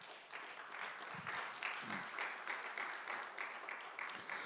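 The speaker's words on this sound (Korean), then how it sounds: "우리 큰 박수로 맞아주시기 바랍니다." An audience at a church early-morning worship service at a conference applauds steadily to welcome a speaker, a dense, even clapping from a crowd that holds throughout, fairly faint and distant.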